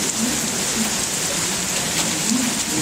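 Steady rain falls outdoors during a severe thunderstorm with frequent lightning, heard through an open door as a dense, even hiss of drops hitting wet surfaces, continuous and fairly close, with no voices.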